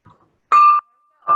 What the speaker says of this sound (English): I wanted to ring the bell for you, Tammy and Nick.